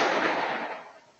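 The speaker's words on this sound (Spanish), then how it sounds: "Segundos después, se escucha un disparo." A single gunshot caught on a security camera outside a shopping plaza, one sharp burst followed by a long, broad echoing decay that fades over about a second, with no talk.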